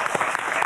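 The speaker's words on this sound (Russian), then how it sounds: "Давайте встретим аплодисментами." A studio audience on an evening TV show in Gomel bursts into applause to welcome a guest: a short, loud wash of many hands clapping together, close and full.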